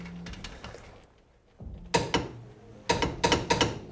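A torque wrench ratchets in short sharp clicking bursts while tightening a shock nut on a Kawasaki Teryx KRX side-by-side, two clusters of metallic clicks separated by a quiet pause, close and distinct.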